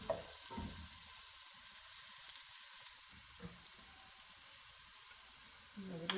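Sliced onions frying lightly in a pan until pink, a faint steady sizzle with a couple of soft utensil knocks near the start and end, no speech.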